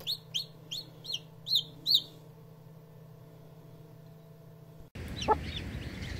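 A newly hatched chick peeps in a series of six high, sharp chirps spaced about every half second, close and clear over a steady low hum. A brief rustling noise follows.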